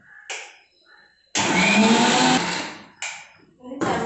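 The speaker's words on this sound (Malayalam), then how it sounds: "ചമ്മന്തിക്കറി അരച്ചെടുത്ത്" An electric mixer grinder whirs as it grinds coconut chutney: a short pulse, then a loud sustained run of about one and a half seconds, followed by two quick bursts, close and harsh.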